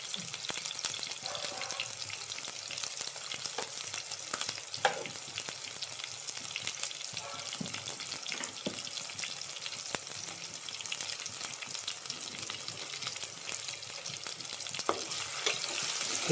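Crushed small onions and curry leaves fry in hot oil with salt in a pan for an okra, drumstick and mango curry, giving a continuous close sizzle with occasional stirring scrapes and clinks.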